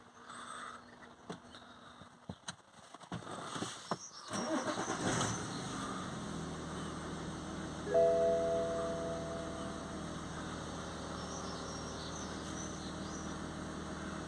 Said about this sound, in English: If we come inside and start it